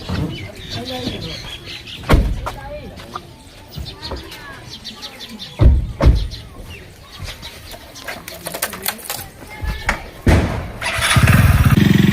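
A motorcycle engine cranks and sputters into life, revving near and loud at the end, with thumps, squeaks and background voices before it starts.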